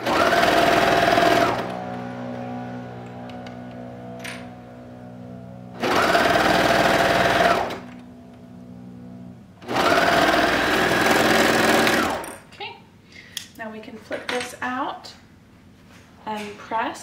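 Three loud bursts of a sewing machine stitching boxer briefs, each about two seconds with a steady whirring hum and pauses between, followed by someone talking close by.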